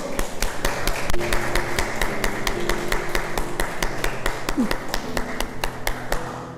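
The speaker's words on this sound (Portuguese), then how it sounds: "Vamos aplaudir o Senhor." A church congregation claps in steady rhythmic unison, brisk and fairly loud, with sharp even beats running throughout over a low background hum.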